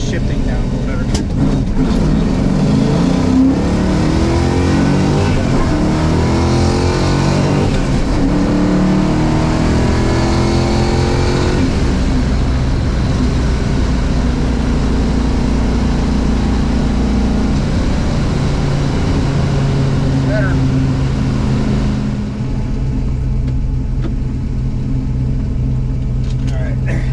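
A Plymouth Cuda's engine rumbles and revs continuously as it runs up through gears on a county road, pitch rising and dropping with each shift, loud and close, with someone talking over it.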